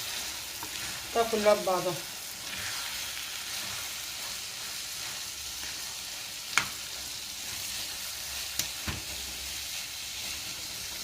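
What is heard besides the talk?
minced meat frying and being stirred in a pan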